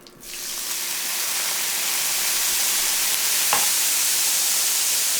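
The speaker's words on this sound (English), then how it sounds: "we want to add some capers and kind of fry them up a little bit" Capers fry in a pan for chicken piccata, a loud, steady sizzle that surges in within the first half-second and holds constant, with one faint clink partway through and no voices.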